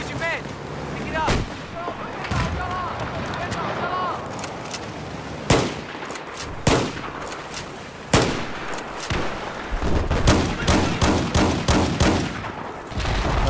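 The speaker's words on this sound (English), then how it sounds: "I was already shooting at him." Gunfire in a first-person video game shooter, heavy booming shots and rapid bursts scattered through the clip amid game effects, with a voice talking over parts of it.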